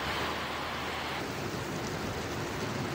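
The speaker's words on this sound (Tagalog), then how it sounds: "buong araw maulan dito sa Ilocos Norte. Dito sa Pagudpud ay hindi naman malakas yung ulan" Steady, even hiss of light rain falling all day in Pagudpud, Ilocos Norte, a continuous wash of noise with no voices.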